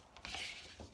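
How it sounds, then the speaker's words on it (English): A tool scrapes the bottom and walls of a resin mixing cup, a quiet, brief rasping rub lasting under a second, close and alone. "I'm scraping the bottom and the walls."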